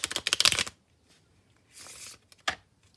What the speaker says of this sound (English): now I'm going to do a few hard shuffles on the table here.